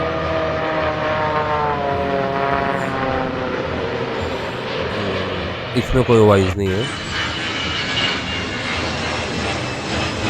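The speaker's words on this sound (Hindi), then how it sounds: "आपको एयर इंडिया फ्लाइट वाले वीडियो में प्रोपेलर जैसी आवाज सुनाई देगी।" Inside an Air India flight, a ram air turbine gives a steady propeller-like drone with a low rhythmic thrum, loud and continuous, while a voice speaks over it.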